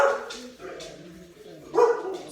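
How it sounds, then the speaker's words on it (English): Several dogs bark and yip excitedly outside at a distance, short bursts of barking coming in bunches, faint and in the background. "That's what you hear the dogs going nuts for in the background."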